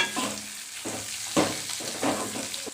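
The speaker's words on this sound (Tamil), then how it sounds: "வெண்டைக்காய் போட்டு கொஞ்சம் வதக்கிக்கலாம்" Okra for sambar sizzles and crackles steadily in a hot pan, with a few louder scraping stirs at regular intervals; no voices.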